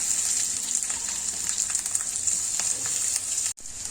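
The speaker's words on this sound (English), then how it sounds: "Green mirchi and onions is fried." Green chillies and onions frying in oil, a loud, steady sizzle close up that hisses on without talk, then cuts off abruptly near the end before briefly resuming.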